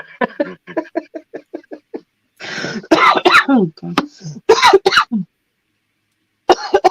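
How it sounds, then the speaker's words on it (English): A few sharp coughs and throat-clearing bursts come up close, mixed in with a speaking voice and short laughing sounds. "I'll start myself off coughing now."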